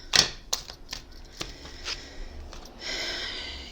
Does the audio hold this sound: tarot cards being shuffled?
yes